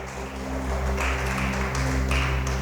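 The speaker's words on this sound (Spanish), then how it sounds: "Dale ese aplauso grande al poderoso." A church congregation applauds during a sermon, a dense, continuous wash of clapping that fills the room alongside a steady low hum, with no clear speech.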